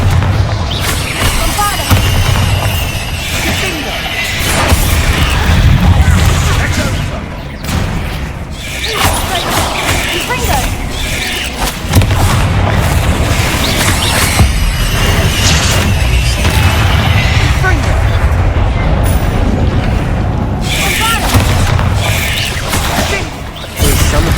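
Confringo spell explosions in the game Hogwarts Legacy, loud booming blasts and crashes repeating through a dense, continuous battle mix with whooshes.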